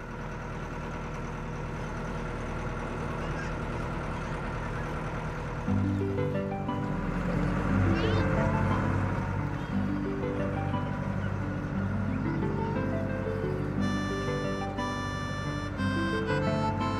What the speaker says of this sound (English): Seven children that come to school on the boat.